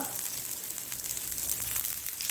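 Squid for a Mangalore-style roast fries in a pan with a dense, continuous sizzle and crackle. The sound is close and steady throughout the short clip.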